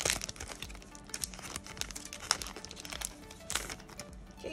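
Crisp crinkling and crackling of a One Piece trading card pack's plastic wrapper being handled and cut open with scissors, continuous and close, with sharper snips scattered through.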